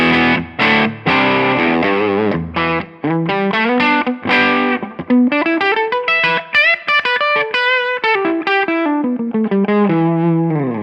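An electric guitar through an amp simulator with a touch of gain, via an IK Multimedia iRig USB interface, plays a melodic phrase of single notes and short runs, clear and prominent, with no talking.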